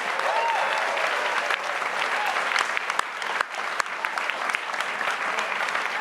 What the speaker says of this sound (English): let's give them one more big round of applause today